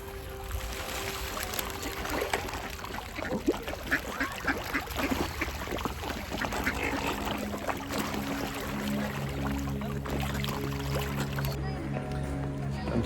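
Several ducks quack in a busy outdoor scene at a carp pond near Hachimangu shrine in Kamakura, Japan, their calls rising over steady background noise and the lap of water, with a low hum entering later.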